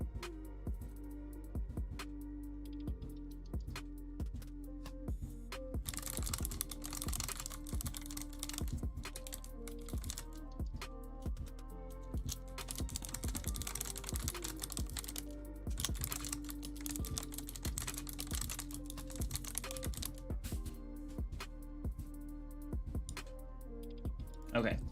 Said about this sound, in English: I'm typing Soupy as fast as I can.